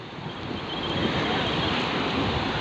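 Ocean waves wash steadily against the shore at Bandra Bandstand in Mumbai, a broad hissing roar swelling slightly midway and mixed with gusting wind buffeting the microphone, with no voices.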